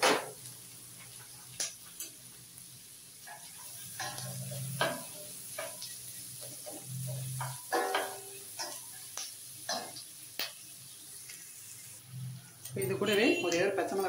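Ginger and garlic sauté in a pan for paneer butter masala, a soft continuous sizzle punctuated by scraping stirs and clinks of a utensil against the pan, with a louder clatter near the end.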